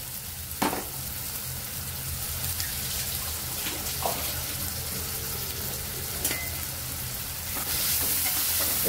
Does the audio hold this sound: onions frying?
yes